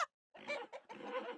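A hen clucks in a few short, throaty bursts, close and clear, with a brief pause between calls.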